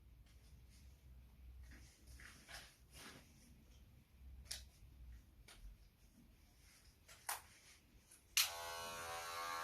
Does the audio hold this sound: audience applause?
no